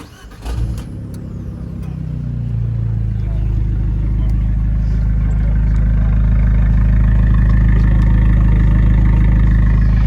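A hot hatch engine with a sport exhaust starts and settles into a loud, deep, throaty idle that holds steady close by, its low rumble constant throughout.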